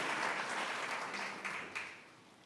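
Congregation applauding during a Sunday morning church service, a steady wash of clapping that fades gradually toward the end with a couple of sharper claps near the close.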